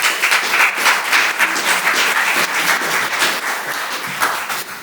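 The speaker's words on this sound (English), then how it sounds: "Please welcome her with, again, a warm applause." Conference audience gives a warm round of applause to welcome a speaker on assistance, human dignity and economy, a loud, even wash of clapping that holds steady throughout.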